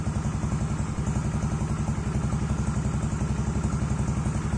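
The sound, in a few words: motorcycle engine idling while still cold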